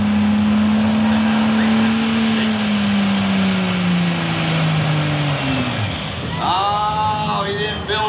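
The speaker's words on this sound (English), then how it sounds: "Some of the trucks pulling tonight will have automatic transmissions." At an evening truck and tractor pull in Front Royal, a pulling truck's engine gives a loud, continuous roar. Its pitch slowly sinks as the run goes on, then the engine cuts off near the end and lighter sounds follow.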